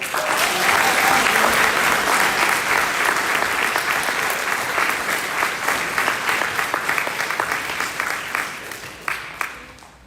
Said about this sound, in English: Let's have one more round of applause.